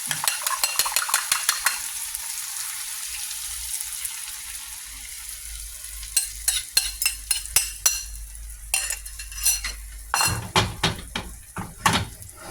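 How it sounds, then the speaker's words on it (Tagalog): Beaten eggs frying with tomato and onion in a pan, a soft sizzle under a quick run of metal spatula scrapes and taps at the start, then bursts of clattering strikes later on. "Lagay na natin yung binaping itlog."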